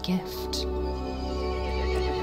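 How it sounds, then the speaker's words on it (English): A horse in a Resident Evil Village cutscene gives a loud, short neigh, with a whinny and some clip-clop-like hoof sounds over a low droning score, and a voice briefly speaks. "The horse grew angry and summoned the other monsters."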